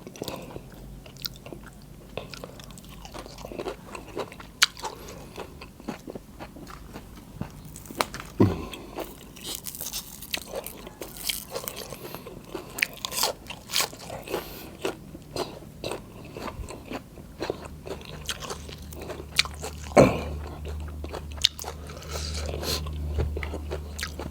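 Someone eating bamboo shoot soup, with soft, close chewing and occasional crunchy bites and small clicks repeating irregularly over a quiet background.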